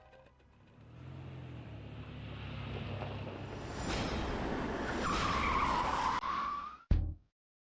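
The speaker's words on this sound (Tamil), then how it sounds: "வண்டி எதுக்கு இங்க நிறுத்துனீங்க?" A car skids to a halt with a rising rush of road noise and a drawn-out tire squeal that ends abruptly in a sharp final screech, loud and close, with no voices.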